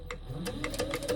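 A sewing machine bastes a 1/8-inch seam across the bottom of a fabric train case, a brief burst of rapid mechanical stitching close by.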